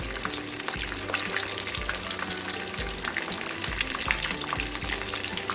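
Mushroom kebab frying in hot oil, a steady close crackling sizzle with dense bubbling, no voices.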